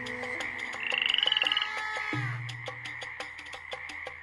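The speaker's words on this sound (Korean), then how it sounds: "두 번째로 하나님은 개구리를 보내셨어요." Frogs croak steadily in a dense, pulsing chorus with rhythmic rattling calls, loud and continuous throughout, with no voices.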